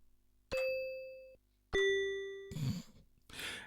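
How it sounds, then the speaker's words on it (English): Two sustained electronic bell-like tones from the bell preset of a 1988 Amstrad CKX100 keyboard, each struck sharply and held with a slow decay, followed by two short bursts of bright clattering noise. "This is the bell sound. Are you ready? This is supposed to be bell."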